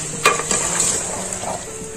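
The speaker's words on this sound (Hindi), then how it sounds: "2-3 मिनट भून लेंगे।" Ingredients for a meatless bagara dalcha sauté in a pan, a steady sizzling hiss with a few sharp scrapes and clinks of a spoon near the start, close and alone.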